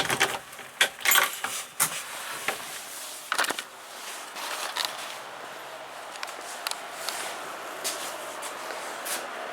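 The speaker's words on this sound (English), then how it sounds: "if I can find out where I put my keys" Keys jangle in short, bright bursts beside a supercharged big-block AMC Javelin, loudest in the first few seconds and then fading to faint scattered clinks.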